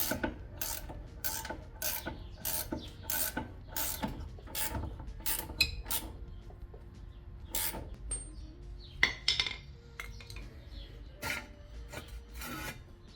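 A 17 mm ratchet wrench loosens the coilover bolts on a Nissan 240SX S14 during a Tein Flex Z coilover install, with close, rapid, evenly spaced ratcheting clicks that turn into slower, irregular clicks and knocks.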